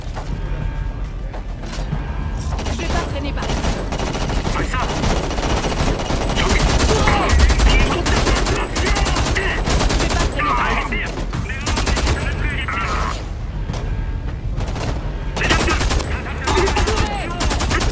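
Sustained gunfire in the video game Homefront: The Revolution, with rapid automatic bursts and scattered single shots overlapping in a loud, continuous firefight. Game chatter and effects sit faintly underneath.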